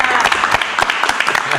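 Crowd claps briskly for a short burst at a live stage event, dense and steady applause filling the whole moment with voices mixed in.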